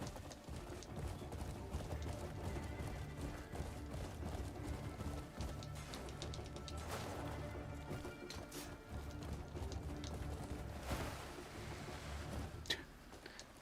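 In the video game Crimson Desert, a horse's hooves gallop in a quick, steady clip-clop rhythm, quiet and continuous, broken by a few sharp knocks and crashes.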